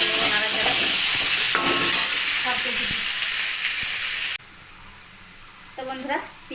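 Onions sizzle and fry in a hot pan while being stirred, a steady loud crackle with scraping stir strokes, dropping quieter near the end with a few faint clinks.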